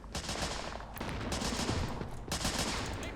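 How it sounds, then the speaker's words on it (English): A Japanese gunner firing in the World War II game Men of War: Assault Squad, set during an invasion of the Japanese mainland: sustained loud bursts of rapid gunfire, briefly pausing near the start and again later, with no talk. "Japanese soldier up there shooting."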